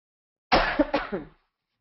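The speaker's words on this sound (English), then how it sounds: "I'm getting the cough, so sorry." A single close, dry cough in a short burst of two or three quick hacks, then silence.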